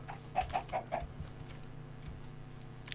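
Chickens cluck in Minecraft, four short clucks in quick succession near the start, then quieter over a steady low background hum.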